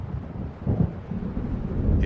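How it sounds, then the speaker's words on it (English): Thunder of an approaching storm in the video game Alan Wake Remastered, a low, muffled rumble rolling in the distance with a deeper swell partway through. "It seems there's a storm coming."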